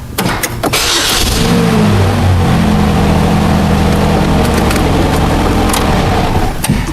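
A 2008 Chevrolet Cobalt's 2.2-litre engine cranks in a brief burst, then catches and settles into a loud, steady idle close by, with a few sharp clicks near the end.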